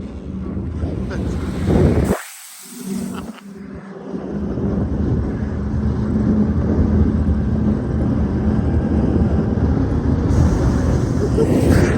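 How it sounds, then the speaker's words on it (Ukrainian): Engine noise from a farm machine spraying herbicide on a cornfield holds a steady, loud drone, briefly dipping near the start, with wind buffeting the microphone and faint voices in the background. "Куди ти газуєш?"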